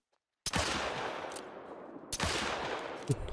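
Two sharp gunshots from a hunting video game, The Hunter Call of the Wild, are spaced about two seconds apart, each a sudden loud crack followed by a long rolling echo tail.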